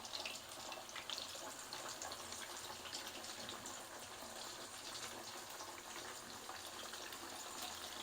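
Chicken pieces for crispy fried broast, two at a time, frying in hot oil over a flame being turned down, giving a steady, loud, dense hiss and crackle that runs unbroken throughout with no talking.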